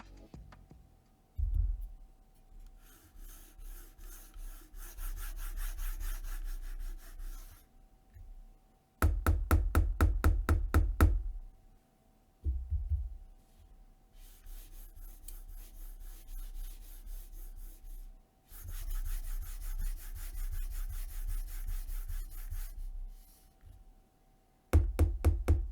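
Gaming mouse gliding back and forth on a Pulsar SuperGlide glass mousepad, giving a soft rubbing swish in several long strokes with quieter gaps and a few sharper scratchy passes, recorded close with no talking.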